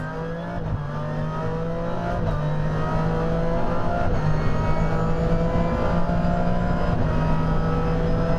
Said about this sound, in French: Un envol que l'on revoit depuis l'habitacle de l'Aston Martin DBRS 9 de l'équipe GPR